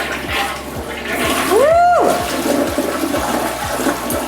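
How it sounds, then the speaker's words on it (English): A newly installed toilet gives its first flush, a loud rushing swirl of water with a rising gurgle partway through, close by and with no voices. "We're going to give it its first flush."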